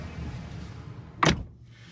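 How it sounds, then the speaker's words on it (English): A single solid thunk as the door of a 2025 Alfa Romeo Tonale swings shut, close and brief against a quiet background. "Go ahead and close the door here."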